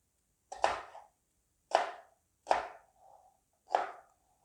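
A knife cuts paneer into large pieces on a board, giving four crisp, separate chops about a second apart, each fading quickly into quiet.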